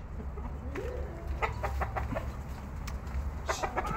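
Pet chickens cluck and chatter nearby, a series of short overlapping clucks and calls over a steady low background hum, with no talking.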